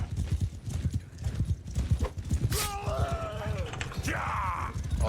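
Horse hooves gallop across the ground in the medieval battle video game Mount & Blade 2: Bannerlord, a fast, heavy thudding rhythm up close, with a horse whinnying partway through.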